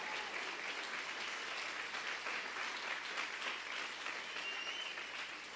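A church congregation claps in sustained, dense applause that fills the room at a steady level throughout, with no break and no clear voices over it.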